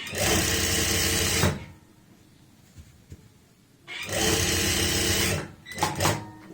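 A sewing machine stitches a pleat on a lined shirt, running in a loud steady whir for over a second, stopping, then starting again in a longer burst and a short final spurt, close by.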